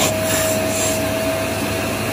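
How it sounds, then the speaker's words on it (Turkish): A household vacuum cleaner runs indoors in one steady, close, continuous drone with a fixed whine, used as a massage aid for knee and meniscus pain. No one speaks over it. "Çalıştır süpürgeyi."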